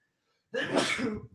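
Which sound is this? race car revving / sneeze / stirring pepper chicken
sneeze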